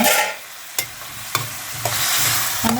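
Eggplant chilli in a covered pan, a bright sizzle broken by several spaced scrapes and knocks of a spoon stirring, close and without speech.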